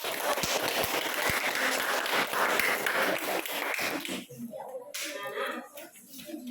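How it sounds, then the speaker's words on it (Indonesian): A classroom audience applauds after a group presentation, dense clapping for about four seconds that fades into murmuring voices and a speaking voice. "Berikan aplaus lagi dulu buat"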